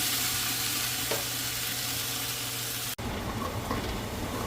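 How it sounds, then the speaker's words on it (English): Onions and celery sizzle steadily in a stew pot, a dense continuous frying hiss held close and even, broken by one sharp click partway through before the sizzle carries on. "I added my onions and celery to it"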